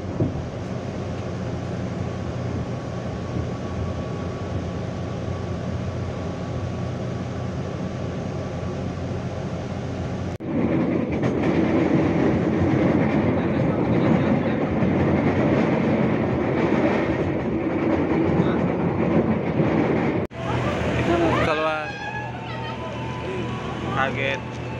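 A train pulls out of Kutoarjo station with a loud, continuous rolling rumble and clatter that swells partway through, with a voice heard briefly near the end.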